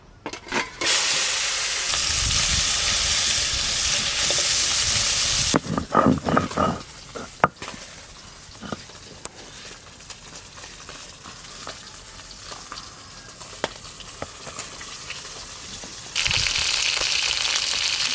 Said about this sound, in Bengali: কই মাছগুলো ভাজা হয়ে গেল তুলে নেবো এবার